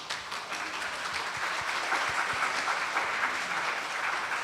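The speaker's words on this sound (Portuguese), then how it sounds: "eu peço uma salva de palmas para ele" Audience applause at a Brazilian bar association (OAB) session on the prison system, a steady dense patter of clapping from a sizeable crowd filling the whole stretch at moderate level.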